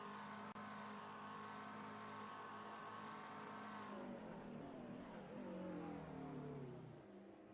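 A GT3 race car in a racing video game drones in a steady engine note that holds its pitch, then shifts and wavers as the car brakes and changes gear, quiet and without voices.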